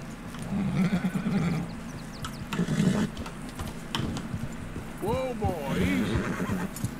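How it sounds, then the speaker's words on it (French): A horse whinnies several times in the Red Dead Redemption game, its rising and falling neighs mixed with clip-clop hooves and snorts while someone talks over the action. "Donc j'ai réussi à attraper un cheval."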